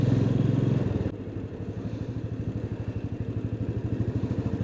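A motorcycle rides along a double-lane main road, its engine running steadily close by with a pulsing rhythmic throb, louder at first and then settling into an even, continuous drone.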